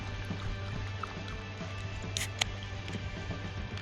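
Beer pours into a glass at a campsite, a soft steady liquid trickle with a few faint drips, quiet and close, alone with no talk over it.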